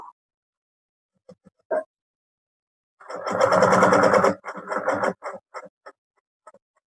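A sewing machine stitches a bag in reverse, a close mechanical rattle of about a second and a half followed by several shorter bursts, with a few faint clicks before it.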